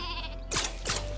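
Two quick cartoonish sheep bleats from the Worms video game, each a bright wavering cry over a steady game backdrop with a low hum, spaced about a third of a second apart.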